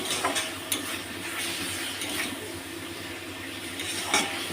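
Chicken frying in spiced oil in a pan, stirred with a utensil: a steady, close sizzle runs throughout, broken by a few scrapes and clinks of metal against the pan.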